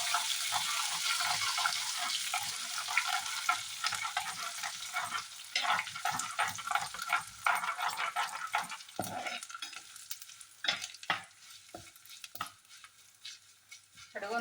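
Mustard seeds crackling in hot oil for a bitter gourd pickle, a dense run of sharp pops and spits over a quieter sizzle, thinning out toward the end, close and fairly soft.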